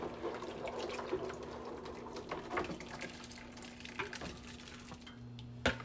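Thick, warm rice pudding with raisins is poured from a pot into a baking pan, a soft wet slopping and trickling close by, with faint clinks and a sharp knock at the end.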